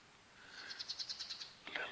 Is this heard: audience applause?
no